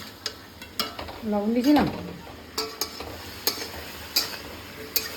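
Curry with ginger, cumin, turmeric and chili powder frying in a pan, with a spoon scraping and stirring in repeated sharp clicks over a low sizzle, and someone speaking briefly midway.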